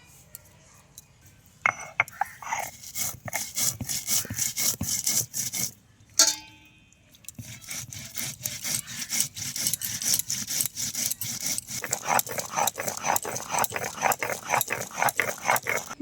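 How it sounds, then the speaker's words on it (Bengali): White cumin is ground on a traditional grinding stone in rhythmic back-and-forth strokes, a steady run of rasping scrapes that stops for a moment partway through before carrying on. "দেখুন বন্ধুরা, আমি এখন সাদা জিরাটা বেটে নিচ্ছি।"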